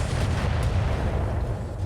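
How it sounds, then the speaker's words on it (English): Rocket launchers fired by a mech in a video game give a dense, booming rumble of blasts and explosions that stays heavy and steady through the short burst, with no talk over it. "I'm gonna throw on the rocket launchers and let it go."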